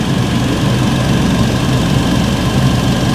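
A Fiat 500 engine idling with a low-priced marketplace car's charging fault, a loud, steady, close mechanical hum and rumble without pauses or talk.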